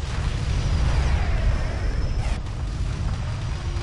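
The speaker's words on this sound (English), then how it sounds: "we are not going to miss the explosion of the Titan flagship" A Titan flagship blows up in the space strategy game Homeworld Remastered, a loud, sustained rumbling explosion with heavy low-end roar that holds steady throughout, then a slight dip and a shift in texture partway through.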